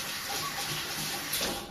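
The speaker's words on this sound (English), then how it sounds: "again, wash the onion" An onion rinsed under a running kitchen tap, a steady close rush of water splashing in the sink throughout, with no speech.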